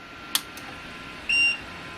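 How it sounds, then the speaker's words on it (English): A bench power supply gives a single short, bright electronic beep as it is switched on, after a faint click, close and clear against a quiet background. "Nice beep."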